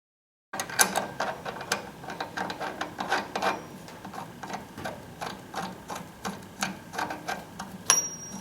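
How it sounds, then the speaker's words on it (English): A hand ratchet clicks in quick irregular bursts while tightening a nut on the track drive of an Ariens snowblower being converted to a Snow Rover, close and fairly quiet, with no talking. "This nut has not been tightened all the way yet, so we can do that now."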